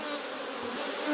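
Honeybees hum in a dense, steady buzz at an opened hive being split, with brood frames being moved to a nuc box; the drone is loud and close and continues without a break.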